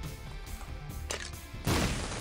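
A bomb exploding in The Binding of Isaac: Repentance, a sudden loud burst near the end of the clip, preceded by a brief crackling hit and busy game sound effects.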